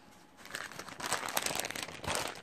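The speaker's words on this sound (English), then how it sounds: "This is a, this is a really crinkly, unusual feeling package" A crinkly package rustles and crackles in someone's hands, close and fairly quiet, with bursts of crumpling rising and falling over a couple of seconds.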